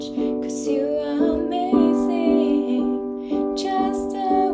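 Piano playing the melody and chords of a song, steady and fairly loud, with sustained harmonic notes and repeated phrase attacks and no voice over it.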